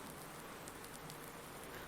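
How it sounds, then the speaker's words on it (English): Steady rain in the Farming Simulator 19 video game, a dense, even hiss of falling drops with faint pattering, quiet and continuous with no talking. "Oh great, it's raining."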